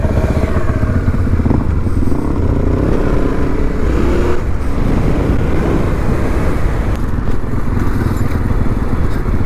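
Yamaha Tenere 700 motorcycle engine running on a South Australian desert trip, a loud, steady close-up rumble lasting throughout with slight variation and no talk.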